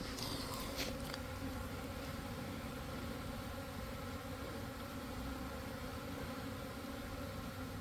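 Honeybees buzzing around a horizontal Langstroth hive, a steady, dense hum that holds evenly throughout with a few louder passes close by near the start.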